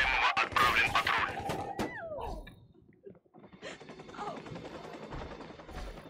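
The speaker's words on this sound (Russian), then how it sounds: "Тут стрельба, проверяем." Bursts of rapid gunfire crackle in the opening seconds of Watch Dogs: Legion gameplay, sharp and loud, followed by quieter scattered shots and background game noise.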